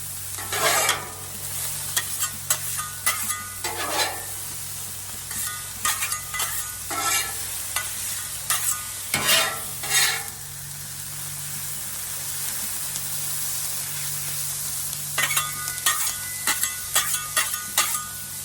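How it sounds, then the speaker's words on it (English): Omelette eggs fry on a Blackstone griddle, with a continuous soft sizzle and hiss broken by clusters of spatula scrapes and taps as the egg is spread flat. "Try to smear this out, let it get flat so each piece is getting cooked."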